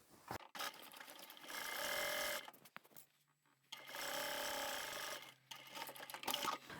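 A sewing machine stitches the seam of a zippered pyramid pouch in two sustained runs of rapid whirring, separated by a quiet pause, with a brief backstitch near the end.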